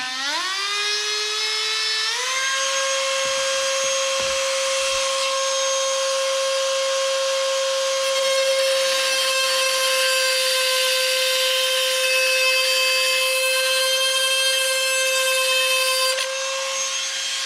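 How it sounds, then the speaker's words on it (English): A Dremel rotary tool cuts into a hobby model airplane part, its sharp whine climbing in pitch as it spins up, then holding a loud steady tone for the long cut before easing off near the end. "always wear some safety glasses if you're dremeling"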